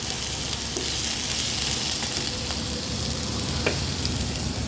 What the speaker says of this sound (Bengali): চিচিঙ্গাটা আমি এখনও ভাজছি